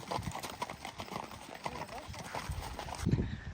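Several horses on a cross-Canada horseback journey clip-clop along a road: steady overlapping hoofbeats close by with road and traffic noise underneath, and a person talking over them.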